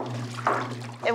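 Clothes rinsed by hand beside a wringer washer in an Amish household make two brief close splashes of sloshing water over a steady low hum.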